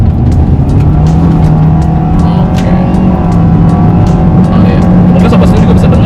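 Toyota Veloz Hybrid MPV engine roaring loudly during an acceleration run on a straight at a test drive event, a steady droning rise with road and wind noise close inside the cabin.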